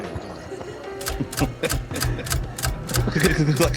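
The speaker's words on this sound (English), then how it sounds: "I'm on my typewriter." A typewriter clacks out a string of sharp keystrokes in an irregular rhythm, close and fairly loud, with a low mechanical hum beneath.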